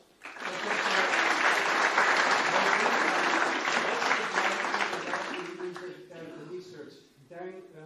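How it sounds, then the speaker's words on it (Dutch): Audience applause at a Dutch spatial-planning event, loud sustained clapping from a crowd that swells quickly, holds for several seconds, then fades out while a voice starts speaking near the end. "Marta Bakker, geef een applaus."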